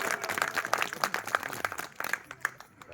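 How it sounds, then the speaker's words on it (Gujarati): An audience at a Gujarati religious gathering claps in a steady, rhythmic beat to honour the saints, the even claps fading slightly toward the end. "બધા પગ આમ બરોબર તાળી પાડો મને"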